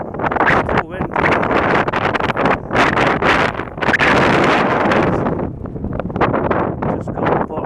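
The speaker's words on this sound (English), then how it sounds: "It's really windy." Strong gusts at a marina beside a moored narrow boat batter the microphone in loud, repeated roaring bursts with brief lulls between them.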